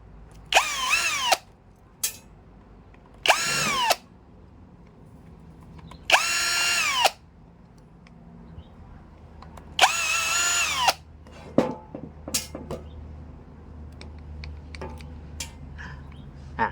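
A power tool, likely a drill or impact driver, is used to back out the four screws from a faulty angle grinder head whose spindle lock slips. It runs in several loud whirring bursts of about a second each, with clicks and handling noise between them.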